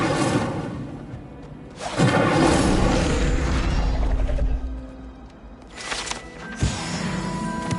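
Incendio fire spell cast in Hogwarts Legacy, heard as a loud booming whoosh that swells into a sustained fiery roar, followed by further sharp bursts of flame close by.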